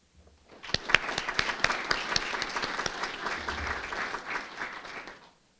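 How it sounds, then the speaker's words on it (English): A school board meeting audience gives a round of applause. Sharp individual claps start it off, then it swells into full, steady clapping that holds for several seconds before fading out to silence. "Please join us in giving them a round of applause"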